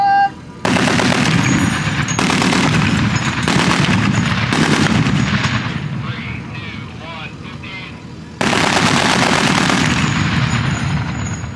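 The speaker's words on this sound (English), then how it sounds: "They're gonna fire the 50 cal and some of the tank turrets here." Live-fire .50 caliber machine gun at a WW2 reenactment with Sherman tanks: long, loud, sustained bursts of rapid fire, a brief pause, then another heavy burst, heard close and dominating.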